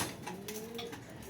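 Racing pigeons give a soft, brief coo at feeding time in a loft, fairly quiet with a faint tick in the background.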